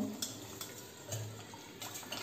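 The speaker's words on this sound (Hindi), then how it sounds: "मैंने यहाँ रिस्कलर का यूज़ किया है" Khandvi batter of gram flour being mixed with a whisk in a bowl, giving soft, light repeated clinks and scrapes at close range, quiet and without talk.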